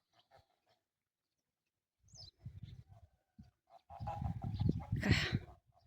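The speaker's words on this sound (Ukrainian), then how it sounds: "Гуси б'ються." Geese, ganders fighting, squabble nearby, harsh honks and hisses in bursts that grow louder toward the end after a quiet start.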